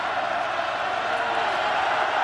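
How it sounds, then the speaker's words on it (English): A college football stadium crowd at Georgia Southern against Furman roars loudly and continuously, a dense wall of cheering and yelling that holds steady at close range throughout. "This crowd was a factor at points last week against Chattanooga, and they're going nuts now"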